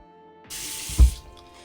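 Tap water runs and splashes for a brief moment while skincare product is rinsed off a face. The splash is close and fairly loud, then fades quickly.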